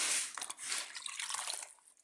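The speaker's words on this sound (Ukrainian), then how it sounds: "окуну в чисту водичку і все" A kitchen towel is dipped and rinsed in clean water, giving soft splashes and dripping trickles close by that rise and fall over a couple of seconds and then fade out.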